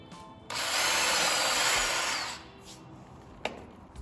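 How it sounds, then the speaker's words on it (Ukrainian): A power drill bores a hole into a floor with a drill bit while fitting a door stop, a loud steady whine lasting about two seconds before winding down, followed by a brief knock near the end. "Далі, за допомогою відповідного свердла, робить отвір у підлозі."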